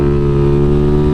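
A Kawasaki KLX300SM motorcycle in second gear pulls hard for a wheelie, its engine note a steady, loud, close drone held for about a second, with no speech.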